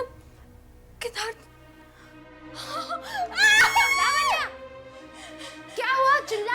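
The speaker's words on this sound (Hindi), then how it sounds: "चिल्ला क्यों रही हो?" Woman screaming in a Hindi horror drama, a few short high cries building into a long piercing scream, then another burst, loud and close with faint background sound between.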